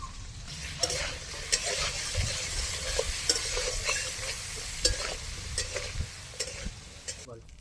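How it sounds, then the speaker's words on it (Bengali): Pointed gourd (potol) pieces fry in oil seasoned with salt and turmeric, giving a steady, close sizzle throughout with repeated sharp clinks and scrapes of a spatula stirring the pan. "পটলগুলো ভেজে নিলাম"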